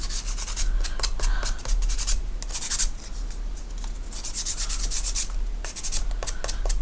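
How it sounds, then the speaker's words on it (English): The edge of a tablet stand being roughed up with sandpaper for a worn white look, close bursts of scratchy rubbing strokes in uneven rhythm with short pauses between, no talk. "I'm going to just kind of sand it up a little bit."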